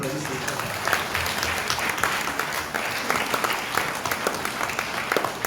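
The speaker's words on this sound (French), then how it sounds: "Voilà, vous applaudissez." A church congregation applauds at a jubilee celebration of forty years of priesthood, with sustained, lively clapping from many hands continuing throughout, close and full, with a voice faintly mixed in.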